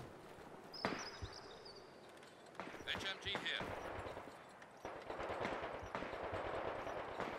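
Rapid bursts of machine gun fire crackle in a Company of Heroes 2 battle, short staccato volleys repeating against distant battlefield noise, with commentary talking over it.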